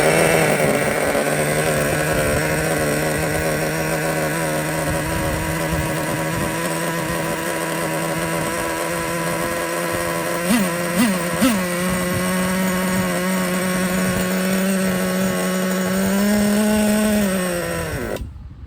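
A Traxxas T-Maxx nitro RC truck engine runs alone at a steady, loud buzzing idle, blips its revs briefly a few times near the middle, then climbs slightly before cutting off abruptly at the end.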